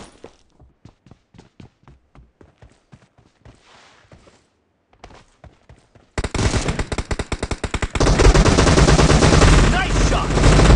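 Gunfire in the mobile battle-royale game PUBG Mobile, played in a team deathmatch arena: rapid machine-gun bursts grow into loud, sustained automatic fire with dense overlapping shots, preceded by a stretch of sparse clicks and steps.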